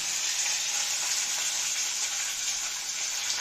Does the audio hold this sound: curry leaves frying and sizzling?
yes